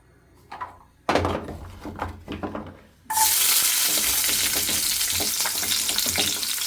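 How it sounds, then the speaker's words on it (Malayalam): A few knocks and clattering handling sounds come first, then small shallots hit hot oil in a pan with an abrupt loud sizzle that continues steadily to the end. "ഒരു പാനിൽ അതിലേക്ക് കുറച്ച് ചെറിയ ഉള്ളി ഇട്ട് കൊടുക്കാം."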